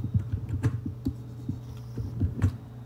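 Computer keyboard keys pressed while working in Photoshop, a series of sharp, irregular clicks and taps, fairly close and moderately loud, over a steady low electrical hum, with no talking.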